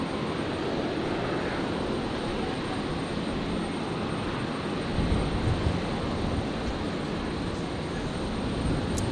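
A Jetstar airliner in Pride livery arriving from Canberra touches down on runway 01 right at Brisbane, giving a continuous, distant jet roar that swells slightly midway and carries no speech.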